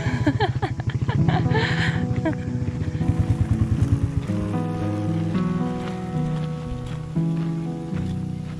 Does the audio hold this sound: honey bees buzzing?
no